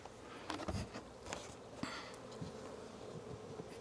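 Honeybees buzzing during a spring hive inspection of a strong colony, a steady swarming hum close by with scattered louder passes and brief knocks, no talking.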